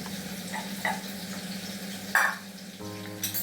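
Sausages frying and simmering in a pan, a steady close sizzle with brief bubbling pops and a clink of utensils, no talk.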